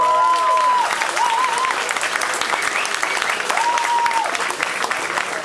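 Loud, sustained applause from a stage-show audience fills the whole stretch, dense clapping with a few voices calling out over it.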